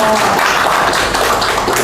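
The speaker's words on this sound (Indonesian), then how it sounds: "Oke, tepuk tangan dulu." Applause rises from the audience at a political talk event on the 2024 US election, a close, loud and dense wash of clapping sustained for about two seconds.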